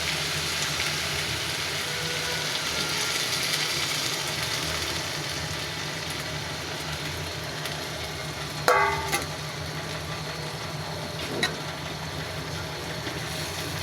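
A pan of chicken curry with spring onions simmers in gravy and is stirred, giving a continuous soft sizzling and scraping texture with a couple of brief sharp clanks near the end, with no talking.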